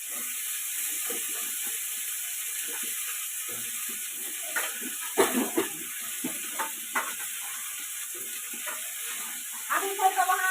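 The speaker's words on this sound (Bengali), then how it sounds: "এখন কলা আলু আর মাছের তরকারিতে বসিয়েছি" A pan of banana, potato and fish curry cooks on the stove with a steady soft sizzle, broken by scattered clinks and stirring knocks, moderately close with no talk.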